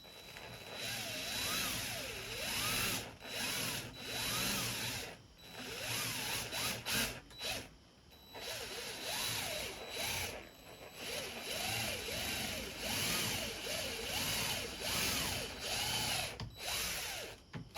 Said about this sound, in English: Drill down, same thing, 3/4.